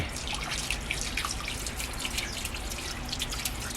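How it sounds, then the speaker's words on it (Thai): A garden hose sprays water to wash out a pond, producing a steady, broad rushing hiss with scattered droplet patters and splashes, continuous and close with no voices. "ผมใช้ สายยางนะครับ ฉีดน้ำนี้เลยนะครับ"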